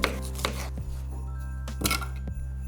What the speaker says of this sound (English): And now let's cut those apples into slices.